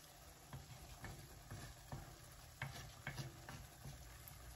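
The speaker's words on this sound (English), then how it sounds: "The food is sizzling here." Food frying in a 2.5 quart clay pan while cooking shakshuka: a steady soft sizzle with scattered small pops and ticks, fairly quiet and close, no talking.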